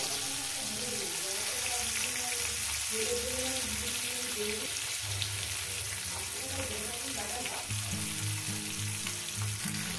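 Bhetki fish pieces frying in hot oil give a loud, continuous crackling sizzle, with occasional low bubbling and shifting tones as they are turned; no clear speech.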